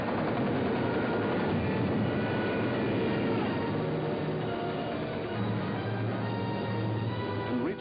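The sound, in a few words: German bomber aircraft over London, WWII documentary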